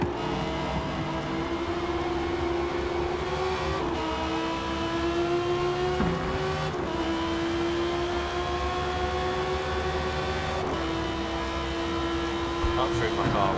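A car engine in a racing video game drones and revs steadily throughout, rising in pitch with each gear, loud and continuous with players chatting over it.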